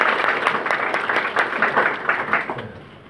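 Applause from a seated audience at a local council meeting in Namyangju, a steady dense patter of many hands clapping close by, slowly fading toward the end.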